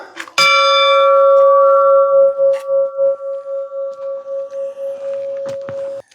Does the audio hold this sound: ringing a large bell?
yes